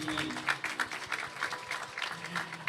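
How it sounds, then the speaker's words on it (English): Steady applause from an audience at a youth athletics awards event, many hands clapping at once in a dense, continuous patter that holds at an even level throughout. "Let's give Dahlia a round of applause, everybody"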